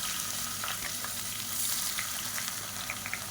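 Whole spices such as cinnamon, cloves, cardamom and bay leaf sizzle with sliced onion in hot oil for mutton biryani, giving a steady, close crackling fry with no talking.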